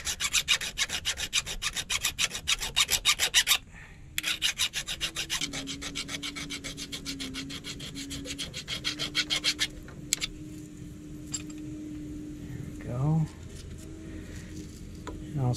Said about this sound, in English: Take a file and file down all the crud down here on the side so it'll seat nice and flat.